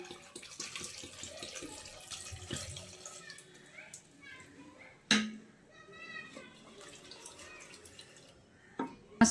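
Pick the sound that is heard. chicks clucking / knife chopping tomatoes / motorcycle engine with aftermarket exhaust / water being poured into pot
water being poured into pot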